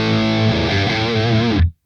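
Distorted electric guitar runs through a Revv Generator 100R MKIII amp with the mids boosted, ringing out as a thick sustained chord with a short wavering melodic bend before it cuts off abruptly into silence.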